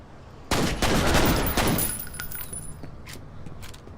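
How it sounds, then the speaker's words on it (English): A burst of gunfire in the first-person shooter F.E.A.R. on PC, a loud rapid volley of several shots lasting about a second and a half, then fading into quieter echoing debris and a few faint impacts. "some of the gunshots actually sound pretty good"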